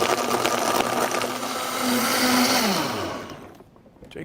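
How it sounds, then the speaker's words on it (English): High-speed blender, Vitamix or Blendtec type, whirring steadily as it blends a chocolate milkshake, loud and close, its motor pitch drifting before winding down and stopping near the end. "we're going to put it in a high-speed blender. I like the Vitamix or the Blendtec"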